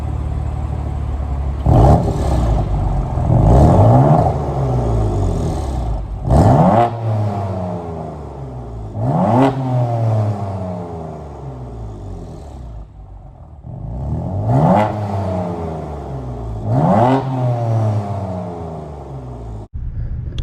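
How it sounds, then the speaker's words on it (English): A 2015 BMW M4's engine revs up repeatedly in loud, rising bursts, roughly five throttle blips with a deep rumbling exhaust note from the stock exhaust between them. "I'm pretty sure I have an exhaust clip that I'm gonna put up and show you guys"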